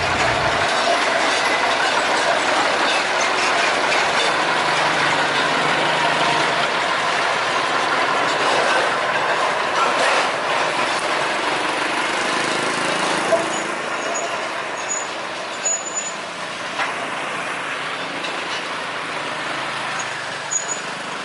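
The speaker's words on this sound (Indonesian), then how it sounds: "lokomotif Hokuriku nomor 4 lewat di depan toko warga" A Hokuriku number 4 sugar cane railway locomotive rolls past slowly on rails partly covered with soil and stones, a steady loud rumble and clatter close by with faint traffic noise.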